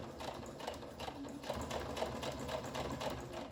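Sewing machine stitching along the edge of a label, a continuous close mechanical whirr with a fast ticking needle rhythm, steady and unbroken, no one talking.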